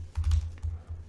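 Keys clatter on a computer keyboard during Objective-C coding in Xcode, a few quick bursts of soft clicks about half a second apart, close and moderately loud, with no voices.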